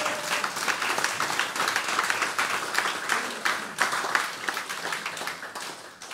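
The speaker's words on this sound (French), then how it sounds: "Est-ce qu'on peut applaudir ce Dieu-là?" A church congregation applauds during a sermon, a loud, steady wash of many hands clapping that carries on throughout and eases slightly at the end.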